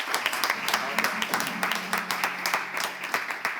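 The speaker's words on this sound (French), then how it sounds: "On applaudit Bachir, s'il vous plaît." An audience at a slam poetry night applauds a performer: lively, crisp clapping from a moderate crowd with distinct individual claps, while a voice speaks over part of it.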